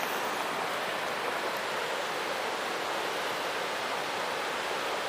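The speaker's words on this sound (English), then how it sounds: "Creek's definitely a lot higher." A swollen creek runs high after rain, its water a dense, constant rushing hiss that fills the air evenly and stays loud throughout with no other sounds.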